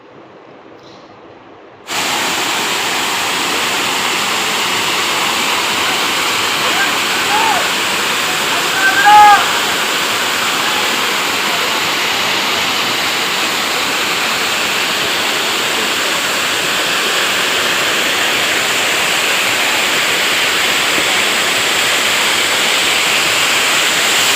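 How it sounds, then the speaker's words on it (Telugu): Paritala waterfalls near Vijayawada pour in a steady, loud, broadband roar that starts abruptly after a brief quiet moment and continues unbroken throughout, with no voices over it. "ఇంక మన జలపాతం చూద్దాం."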